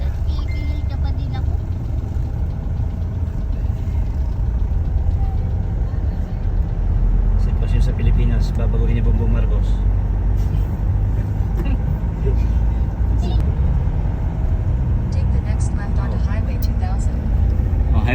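Heavy highway traffic on Highway 2000 rumbles around a car interior: continuous engine drone, passing buses and trucks, and an occasional air-brake hiss, loud and steady, with people talking over it.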